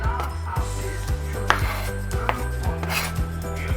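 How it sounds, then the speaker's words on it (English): Finely chopped broccoli drops into a cooking pot with a clatter of knocks and scraping against the metal, in quick irregular bursts close by. "Now we're just adding that finely chopped broccoli"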